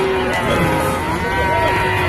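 Cows moo at the Manapparai cattle market, their low drawn-out calls rising out of a dense, continuous din of crowd noise and livestock.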